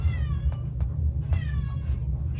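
A tomcat's hissing and tense vocalizing as it squares off with another cat in a home, a few sharp bursts with meow-like wails over steady low background rumble, fairly close.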